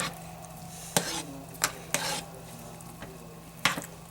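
Coconut oil and other soap-making oils being stirred as they melt in a pot, steady low sizzle-like hiss broken by several sharp utensil knocks and scrapes against the container.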